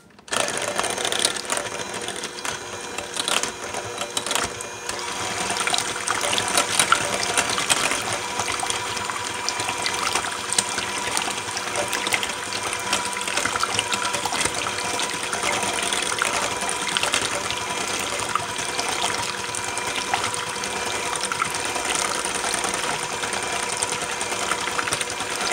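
Whipped cocoa butter body butter with shea nut oil being mixed with an electric mixer, a steady continuous whirring motor drone that stays even and fairly loud throughout with no talking.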